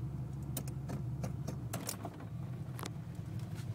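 Ford Mustang 5.0 engine idling with a misfire, a low uneven rumble broken by irregular sputtering ticks and pops, fairly quiet and steady with no talk.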